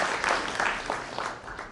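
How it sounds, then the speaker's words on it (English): Audience applause at a tea symposium session, a steady wash of clapping from a room of people, moderately loud and fairly even, swelling slightly in places before thinning out near the end. "Another round of applause for Julius."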